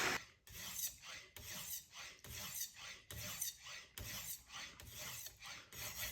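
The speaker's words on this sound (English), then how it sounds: "Now you see the red mark disappear when you grind with the stone." A knife blade is ground on a sharpening stone in steady back-and-forth rasping strokes, about eight even passes, close and fairly quiet, with no talk.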